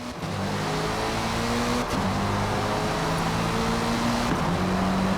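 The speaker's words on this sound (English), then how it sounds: "Take a listen to this Sauber C9." A Sauber C9 race car engine in the video game Forza Motorsport roars steadily, revving up and shifting gears twice, loud and close with no voices.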